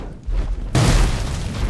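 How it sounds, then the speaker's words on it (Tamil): In BGMI, a sudden loud explosion bursts in with a deep booming rumble that holds and fades slowly, following quieter game noise. "கிட்ட வந்து பார்த்தா அது வெடிச்சு போச்சு"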